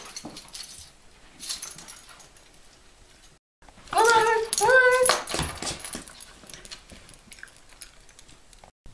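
A dog whimpers and yips in a short high burst while doing a roll over trick for a treat, between stretches of quiet with faint clicks and movement.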